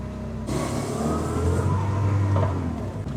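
An old barn-find Peugeot 304 pulls away, its engine jumping to a louder rumbling drone that climbs in pitch as it accelerates and holds steady near the listener.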